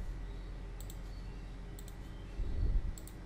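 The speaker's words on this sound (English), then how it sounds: "So just double click it to extract the zip file." Three quick double-clicks of a computer mouse sound close and sharp, spaced about a second apart, over a low background hum.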